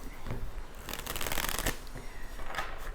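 A tarot card deck is shuffled close up, a dense papery riffling that swells and fades in bursts over a few seconds, with no talking.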